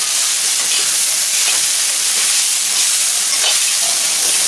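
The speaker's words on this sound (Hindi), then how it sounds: "अब मैं इसमें रोस्टेड मूंगफली डाल रही हूँ। इसे मिक्स कर रही हूँ।" Poha mixture fries in a pan as roasted peanuts are stirred through it, giving a steady, loud, close sizzle with broadband hiss and faint scraping stirs, no talk.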